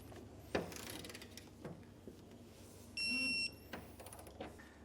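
A torque wrench tightens a flange nut on a Curt A16 fifth-wheel trailer hitch bracket with an S20 slider, giving faint ratcheting clicks and mechanical taps, broken by a short steady electronic beep near the middle.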